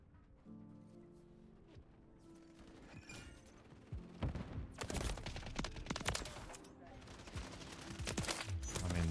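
Gunfire in the video game Call of Duty MW3: after a quieter opening with a faint steady tone, rapid automatic bursts and volleys erupt loudly and keep coming in clusters to the end.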